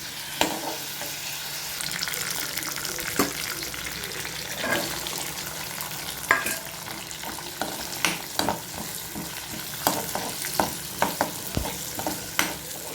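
Garlic fries in a continuous oil sizzle in the background while a spoon or spatula scrapes and taps the pan now and then, close and fairly quiet.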